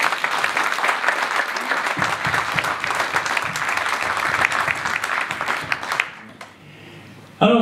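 Lively audience applause for the sound and lighting technician after a theatre-style show about Provence, a thick run of clapping that stops abruptly near the end and gives way to a quieter room.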